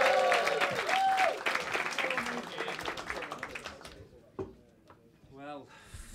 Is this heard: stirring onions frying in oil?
no